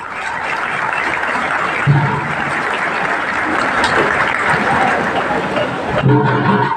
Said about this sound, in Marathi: विद्यार्थी विद्यार्थी तुमच्या टाळ्या कशा यायला पाहिजे